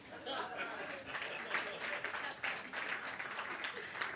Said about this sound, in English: Let's give this thief a round of applause